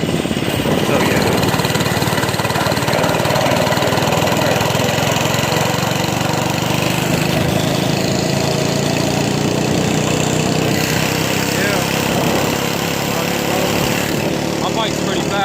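Small mini bike motors run steadily, a loud, buzzing, lawn-mower-like engine drone that holds nearly constant with slight pitch shifts, close to the microphone for the whole stretch.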